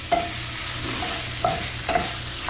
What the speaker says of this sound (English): So let's get all that tofu in there, and we're just going to start working it around the pan.